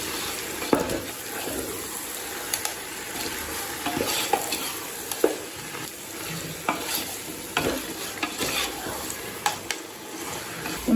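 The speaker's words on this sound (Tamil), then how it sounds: "இப்போ எல்லாத்தையும் நல்லா வதக்கிக்கலாங்க." Marinated chicken sautéing in a pan with oil, a steady soft sizzle broken by frequent scraping stirs and knocks of a spoon, close and fairly loud throughout.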